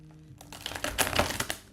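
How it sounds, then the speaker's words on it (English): Deck of cards being shuffled close up, a quick burst of riffling clicks and crisp flutters lasting about a second. "I'm going to do a shuffle."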